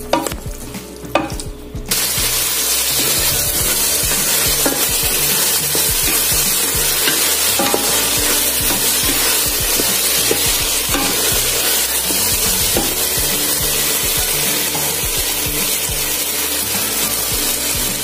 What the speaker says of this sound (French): Je vais donc bien faire revenir la tomate